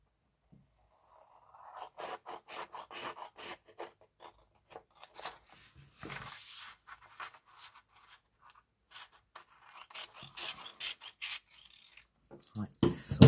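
Scissors cut around the edges of printed paper ephemera in a series of quiet, crisp snips and rasping slices, close-up with brief pauses between cuts.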